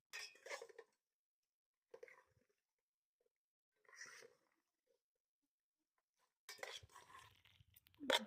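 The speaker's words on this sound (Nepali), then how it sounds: "यसलाई चाहिँ यसरी मिक्स गर्ने दुईटा चम्मचले" Two spoons clink and scrape against a bowl while food is mixed, giving short separate bursts of clatter with quiet gaps between them, close and fairly soft.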